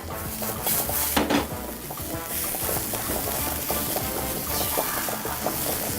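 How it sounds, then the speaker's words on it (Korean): Thinly sliced cucumber is stir-fried lightly in a pan with the heat turned off, producing a close, continuous sizzle broken by frequent clinks and scrapes of a utensil against the pan, with no talking. "아주 살짝만 볶아주면 돼요"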